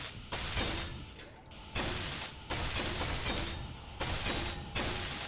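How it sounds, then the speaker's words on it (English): Blocks being welded in Space Engineers, a loud continuous mechanical grinding and rattling that repeatedly starts and stops in bursts of one to one and a half seconds, with brief quiet gaps between bursts. "Let's go ahead and weld all the bits I can."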